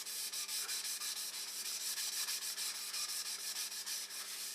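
A cloth rubs oil into a wooden bowl as it turns on a lathe, producing a close, steady, rhythmic scuffing hiss with quick regular pulses and a faint motor hum underneath, with no talking.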